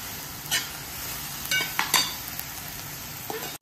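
Malvani masala frying in a pan: a steady close sizzle with a few spoon scrapes and light clinks against the pan, no voices.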